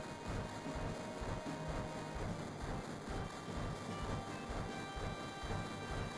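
Steady train rumble and rolling clatter inside Final Fantasy VII, a continuous low mechanical roar with faint rhythmic clacking, moderately loud and unbroken with no voices.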